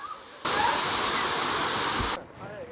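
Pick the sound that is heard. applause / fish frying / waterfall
waterfall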